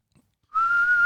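A human voice imitating the little whistle of a life vest: a single sustained, steady whistled tone that starts abruptly after a short pause and holds clear and fairly loud until the end.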